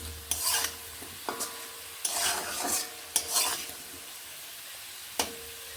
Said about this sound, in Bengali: বেশ একটু লালচে করে এইভাবে ভেজে নিচ্ছি আলুগুলো